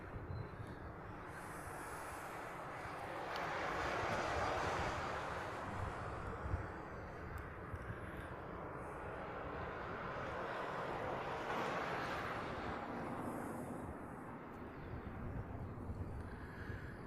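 A passenger jet in Star Alliance livery at Honolulu airport, a broad distant roar swelling and fading twice over a steady rumble, no voices.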